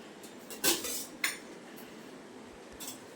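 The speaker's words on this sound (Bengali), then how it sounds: "এটা নেড়ে চেড়ে নিলাম" A metal spoon knocking and scraping inside a pressure cooker while spices like bay leaf, cardamom, cinnamon, cloves and dried chili are stirred in oil, two distinct clanks early, then a lighter tap later.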